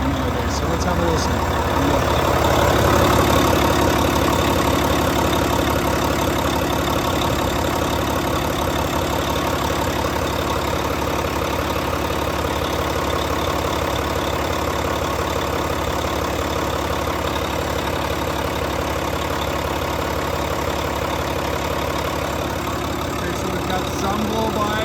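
A 2016 Volvo VNL670 truck's D13 diesel engine idles steadily and close by, a dense continuous rumble that holds level throughout with no other sounds breaking in.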